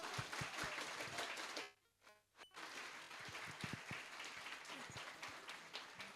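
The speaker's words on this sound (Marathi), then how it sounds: "आपण आपल्या स्टाईलमध्ये जोशमध्ये एकदा जोरदार टाळ्या वाजवूया" An audience at a Business Jatra 2023 business event claps in a dense burst, briefly thins to near silence, then swells back into steady applause, heard from a distance at low volume.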